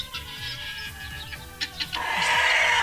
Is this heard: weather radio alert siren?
no